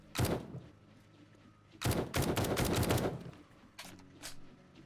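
Gunfire in the survival game 7 Days to Die: a sharp single shot, then a dense burst of rapid shots about a second long, and later two more isolated reports, all loud and close with no talking.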